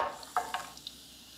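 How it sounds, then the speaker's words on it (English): Food sizzling in hot oil in a deep 12-inch frying pan, a steady hiss with a few short stirring clicks and scrapes near the start, heard close and alone. "You want to hear that sizzle when you put anything in a frying pan with oil."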